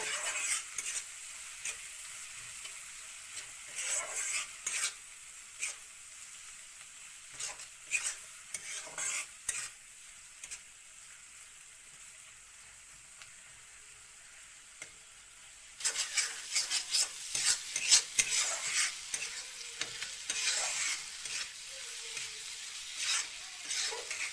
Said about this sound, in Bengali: ভালো করে মশলাটা ভাজা করতে লাগবো